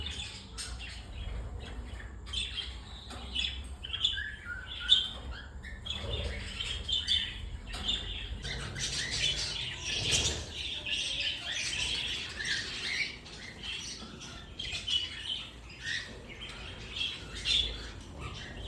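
Pet cockatiels squawk and chirp in a busy, irregular stream of sharp calls close by, with louder bursts coming and going throughout.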